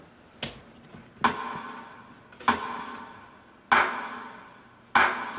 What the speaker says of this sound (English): there's another rim shot here as well